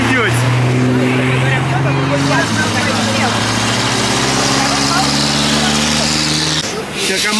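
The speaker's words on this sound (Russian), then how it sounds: "шум большой машины, дорога большая" Heavy vehicles rumble along a busy main road in Alanya, a loud, steady engine drone with shifting low hum from passing trucks or buses, close and continuous throughout.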